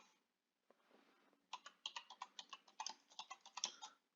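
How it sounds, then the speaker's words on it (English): Someone types on a computer keyboard, a quick rhythmic run of crisp key clicks, close and fairly quiet, after a few scattered taps at the start. "So now I can start typing."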